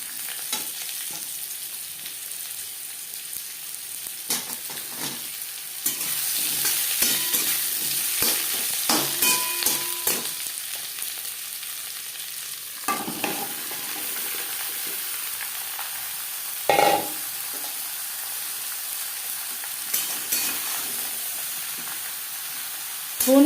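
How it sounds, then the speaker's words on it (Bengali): Bottle gourd stir-fried with tempering spices and slit green chilies, a soft sizzle that swells as the vegetables are tossed, with intermittent scrapes and clinks of a spatula against the pan, close and fairly quiet. "ফোড়নের সাথে লাউ বেশ ভালো করে মিক্স করে দেবো"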